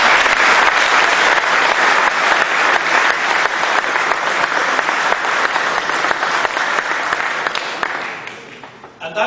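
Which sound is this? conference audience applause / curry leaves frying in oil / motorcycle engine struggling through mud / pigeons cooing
conference audience applause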